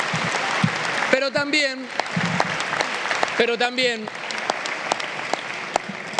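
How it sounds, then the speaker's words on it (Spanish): Applause crackles steadily throughout a session of the Argentine Congress, a dense continuous clapping beneath a voice speaking Spanish over a microphone. "un fuerte aplauso para acompañarnos en este día."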